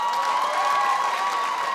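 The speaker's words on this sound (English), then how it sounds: "Let me find out where the broke people at by a round of applause." A comedy club audience claps and cheers in a dense, steady burst at a stand-up show. The applause stays full and loud for the whole stretch, with some whoops mixed in.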